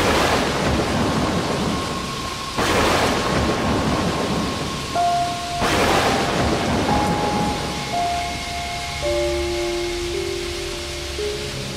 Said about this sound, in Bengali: এই ঝড় বৃষ্টির মধ্যে তো আর বাড়ি যেতে পারবো না।